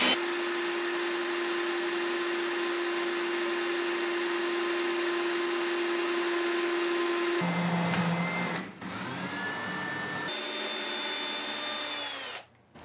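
A small drill fitted with a brad point bit whines steadily while boring into a 1929 Gibson L5 guitar, then stops and restarts with a shifting pitch, close and alone.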